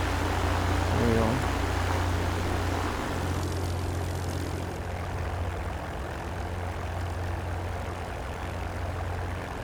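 A P-51D Mustang piston engine in the DCS flight simulator runs as a steady, loud, low propeller drone throughout, easing slightly after a few seconds, with no talk over it.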